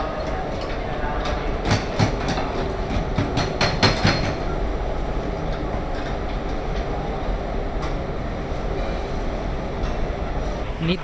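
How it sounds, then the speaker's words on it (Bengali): The Haldibari Express pulls out of Bardhaman Junction with a loud, close rumble and a run of sharp metallic clanks and wheel knocks early on, settling into a steady rolling drone. "আমাদের ট্রেন ছেড়ে বেরোচ্ছে বর্ধমান জংশন"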